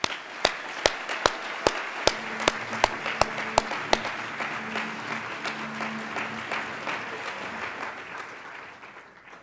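An audience at an equality convention panel claps for the speakers, with a row of sharp, evenly spaced hand claps over the first four seconds and then a broad ripple of applause that slowly fades away.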